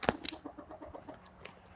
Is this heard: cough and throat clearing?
no